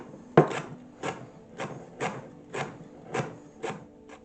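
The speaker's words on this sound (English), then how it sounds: "thinly slice the white and light green parts of a couple" A knife thinly slices leeks on a board, about eight crisp, evenly spaced cuts roughly half a second apart, close and clean with a quiet background.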